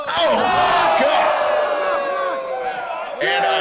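A wrestling crowd roars and yells at a loud, close level, with rising whoops and cheers in waves and a fresh burst near the end.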